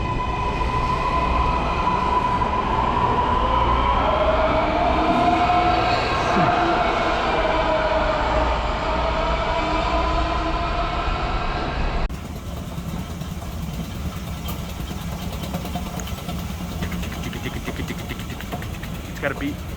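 A subway train rumbles and pulls away from the Mercedes-Benz Stadium station platform in Atlanta, its motor whine rising in pitch, then the noise drops to a lower station hum.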